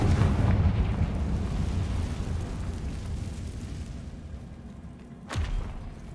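Confringo fire spell blast in a Hogwarts video game, a heavy rumbling burst that slowly fades over several seconds, followed by a sharper second whoosh-thump near the end, with no talk.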